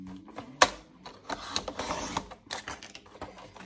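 Scrapbook paper being cut to size up close, with a sharp click followed by soft sliding and scraping, all quiet with no voice over it.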